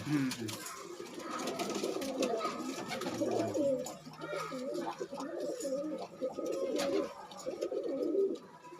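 Pigeons coo steadily and continuously nearby where pigeon chicks are kept, with voices talking over the birds throughout.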